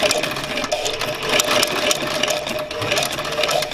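New Tech sewing machine stitching through thick layered material, a fast rattling mechanical chatter with steady needle strokes, close and continuous, without talk.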